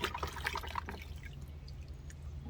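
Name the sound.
rinsing harvested vegetables with water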